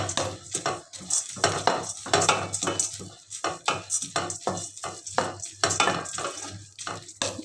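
Cucumber seeds and cardamom dry roasting in a pan, stirred in quick rhythmic strokes that make a run of scraping, rattling bursts close by, with no one speaking.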